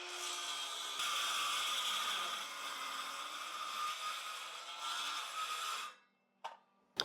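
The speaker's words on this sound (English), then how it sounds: "It got through the 2 sheets of plywood, but I had another piece under it" A saw cuts through two stacked sheets of plywood on a workbench, a loud continuous grinding rasp for about six seconds before stopping abruptly, followed by a couple of brief knocks.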